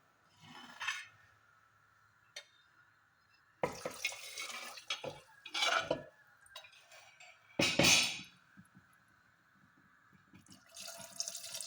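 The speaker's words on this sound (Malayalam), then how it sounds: "നമുക്കിതിൽ മസ വെള്ളം ബാക്കി വെള്ളവും കൂടി ചേർക്കണം" Soaking water is poured into a pot of chickpeas in several short splashing bursts, quiet and close, separated by pauses and light clinks.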